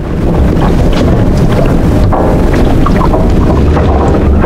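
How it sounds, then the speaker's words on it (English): A strong wind gust of over 50 knots roars across a sailboat during a hurricane, a loud, continuous blast of buffeting wind noise with thumps and rattles from the boat. "we've started to see strong gusts of wind in the 50 knot plus range."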